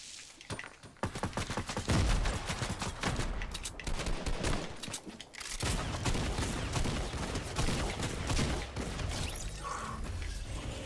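Rapid gunfire crackles through a Star Wars video game firefight, bursts of shots and fusillades overlapping almost without pause, loud and sustained across the scene with mechanical clatter in between.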